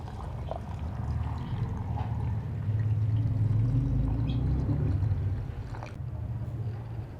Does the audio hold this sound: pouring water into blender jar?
yes